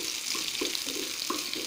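Small shallots added to hot oil in a pan, a faint soft crackle and sizzle with scattered light pops, quiet and close.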